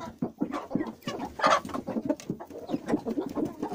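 Hens cluck and murmur continuously in a busy, overlapping chatter close by, with a brief louder squawk in the middle.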